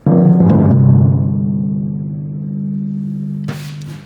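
A few timpani strokes boom out, the low drum tone ringing and sustaining between hits, with one final stroke near the end.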